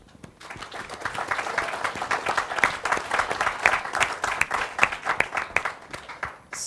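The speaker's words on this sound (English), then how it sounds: "give the whole membership and all of PWD a round of applause for that one" An audience at an AGM breaks into sustained applause, dense crowd clapping that swells quickly, holds steady for several seconds and then thins toward the end.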